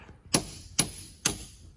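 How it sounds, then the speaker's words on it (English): A hammer strikes a pin punch three times in steady rhythm, knocking a rivet out of a part clamped in a vise, each blow a sharp close metallic clang with a ringing tail. "we're going to go ahead and use the pin punch and a hammer and knock the rivet out"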